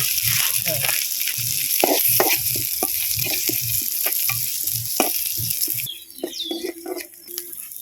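Moong dal fries in a pan with a dense, crackling sizzle and repeated stirring scrapes, the frying thinning out toward the end; a faint bird chirp or two appears late, with no clear talk.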